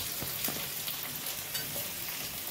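Chopped garlic and onion fry in a pan with steady broadband sizzling, punctuated by the soft scrape and clatter of a spatula stirring, close and continuous throughout.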